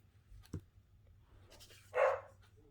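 A dog barks once, loud and fairly close, after a faint sharp sound in an otherwise quiet indoor room.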